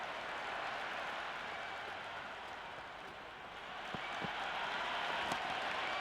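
A stadium crowd in the cricket video game Cricket 26 applauds in a dense, continuous wash of clapping and cheering noise, with a few faint knocks near the end.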